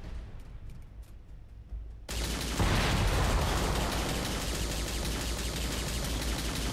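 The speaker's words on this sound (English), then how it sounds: "I'm shooting you a lot." Sustained gunfire in the prison-escape game Escape from Butcher Bay starts abruptly about two seconds in, a loud dense burst that continues over the rest of the clip with no talk, following a quieter stretch of ambient hum.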